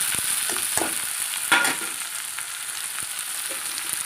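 Tomatoes sizzle in a hot pan for Chennai fish curry while a spoon scrapes and stirs them, giving a steady frying hiss broken by irregular clinks and scrapes, with no talking.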